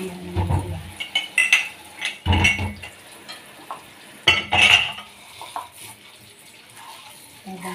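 Dishes are washed in a home kitchen sink: sharp clinks and clatters of plates and cutlery come in irregular bursts, with splashing water and quieter rattling between them.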